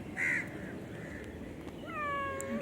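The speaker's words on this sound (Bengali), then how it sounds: "মিয়াও কইছে" A pet cat meows several times, close and fairly clear, with short rising and falling calls and a longer wavering meow near the end over faint background noise.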